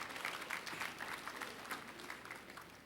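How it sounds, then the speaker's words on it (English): Audience applause at a leadership conference keynote, a steady wash of many hands clapping filling the whole stretch, moderately loud and fairly even with no talk over it. "Good round of applause."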